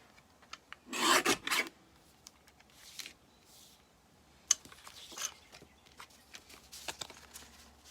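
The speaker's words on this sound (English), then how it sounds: "mini paper trimmer and I'm going to cut some strips" Mini paper trimmer slicing paper into random-width strips for card making, heard as a few short rasping cuts and slides close up, with a louder burst near the start and quieter scrapes later.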